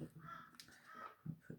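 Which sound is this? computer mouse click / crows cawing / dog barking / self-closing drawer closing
crows cawing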